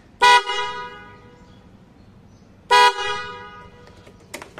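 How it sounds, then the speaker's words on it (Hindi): Two loud, blaring honks from a trumpet-style horn fitted to a Honda Dio scooter, each about a quarter second, separated by a couple of seconds of quiet background. "अब दबाते हैं हॉर्न"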